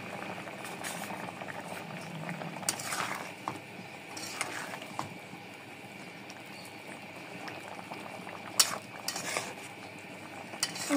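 Fried spice powder being stirred into aloo dum, a potato curry cooked with fish head, with a soft steady bubbling and scraping from the pot, plus a few sharp utensil clinks near the end.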